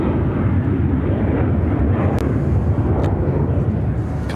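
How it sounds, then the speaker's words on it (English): An American Airlines Boeing 737-800 on its takeoff roll at Chicago O'Hare, a loud, continuous low jet roar filling the whole stretch without letup. "This is American Airlines 299 taking off to Boston on the 737-800."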